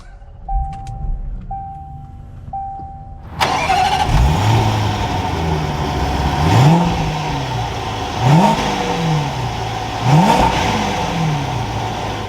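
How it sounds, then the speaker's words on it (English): A 2021 Range Rover Westminster HSE engine cranks and fires up after a quiet cabin chime, settles into a steady idle, then is revved three times in evenly spaced rising surges, close and loud. "we can go over to the engine start stop button and fire this up"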